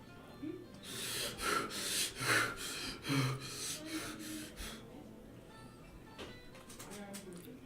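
A human voice imitates heavy, labored breathing during a dark horror tabletop roleplay session, with a run of rough, loud gasping breaths in the first half that thin into quieter, ragged breathing.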